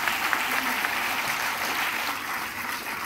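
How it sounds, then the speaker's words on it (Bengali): An audience at a company leadership meeting breaks into loud, sustained applause, a dense wash of clapping with no voices over it. "মিস্টার দেবদুলাল দাস, ওনার জন্য একটা বড় হাততালি দিয়ে নেব।"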